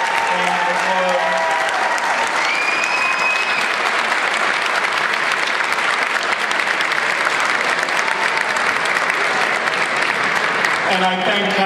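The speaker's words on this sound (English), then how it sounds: "So they stand so we can give them a real wonderful round of applause." Loud, sustained audience applause fills a banquet hall during a school's 100-year celebration, dense clapping from a large crowd running throughout, with brief speech at the start and end.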